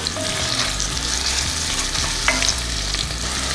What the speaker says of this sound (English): once the oil is melted and hot, I'm going to start by adding the vegetables